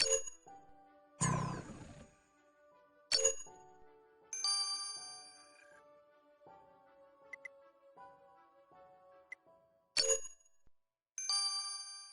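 Short chimes and tinkling notification tones from a phone in the Criminal Case World Edition video game play in several separate bursts with quiet gaps between them, with no talking over them.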